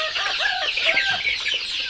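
Young native Thai chickens, two to three months old, cluck busily while feeding, with overlapping close chirps and clucks from a small flock.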